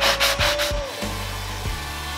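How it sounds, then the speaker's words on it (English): Sheet of 220-grit sandpaper rubbed back and forth along the sharp edge of a wooden bench board, giving rhythmic close scratchy strokes, three to four quick passes followed by slower, steadier rubbing with no talking. "I've taken a piece of sandpaper, this just happens to be 220, and I'm using it on a board here that I have a real sharp edge on"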